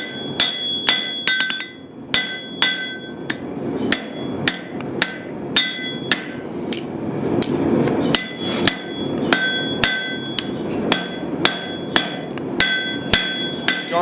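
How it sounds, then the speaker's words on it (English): A hammer forges a small paring knife from a chunk of lawnmower blade steel, ringing out in loud, rapid, bell-like strikes in a steady rhythm with short pauses, close and unaccompanied by talk. "We'll see how fast I can forge it."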